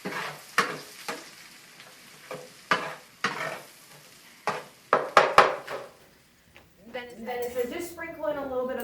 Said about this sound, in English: throw the shallots into the hot butter